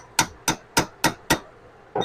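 Metal hammer blows on a stuck gearbox cross joint with a worn, rough bearing, struck because no puller is at hand: five loud, sharp, evenly spaced strikes close by, with a sixth beginning at the end.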